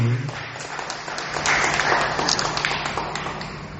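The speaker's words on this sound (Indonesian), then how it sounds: "Tepuk tangan untuk beliau." Audience applause at a Hindu community leaders' gathering, a burst of dense clapping that starts after a brief low hum and carries on steadily to the end at moderate level.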